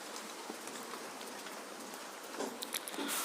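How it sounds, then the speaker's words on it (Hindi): Steady rain falling outside during a tenth-grade science class, a dense even hiss with scattered drop patters that grows slightly heavier near the end, no one speaking over it. "तो ये जो है यहाँ पे बारिश हो रहा है, इसी के कारण जो है इस तरह का आवाज़ आ रहा है"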